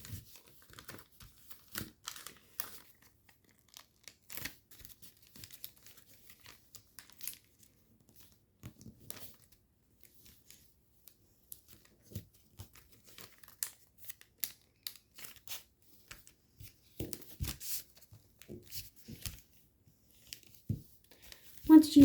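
Origami paper being folded into a fighter jet, with squash folds tucked and flaps creased: scattered crisp crinkles, rustles and sharp creasing snaps, mostly close and soft, with a few louder crackles near the end.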